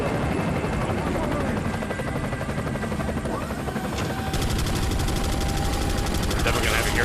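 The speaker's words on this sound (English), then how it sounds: "How did you not hear an attack helicopter right above you?" An attack helicopter hovers overhead in the VR game Resident Evil 4, its loud continuous rotor drone filling the scene, with a rattling burst of machine-gun-like fire joining partway through.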